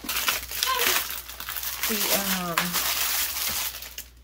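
A plastic shrink wrap bag for a tumbler crinkles and rustles close up as it is handled, with someone talking over it.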